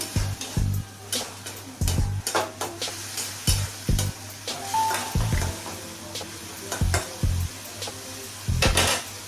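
Grated tomatoes go into a hot frying pan and get stirred, a steady sizzle running under repeated scraping strokes of the spoon against the pan, close and alone, while a stuffed pointed gourd dish cooks.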